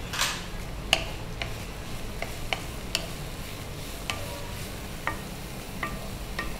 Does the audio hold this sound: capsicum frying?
yes